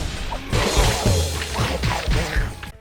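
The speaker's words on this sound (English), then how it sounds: "smashing shit with magic rock band powers" Loud, dense crashing and smashing from brawler combat with magic rock band powers in the video game Charlie Murder, with heavy thuds and whooshes layered over a driving game soundtrack, cutting off abruptly at the end.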